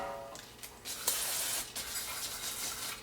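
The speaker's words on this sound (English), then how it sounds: "A little brake clean." Brake cleaner sprayed onto a front brake rotor of a 2004 Honda Civic, a few short hissing bursts followed by a longer, louder spray, close to the mic.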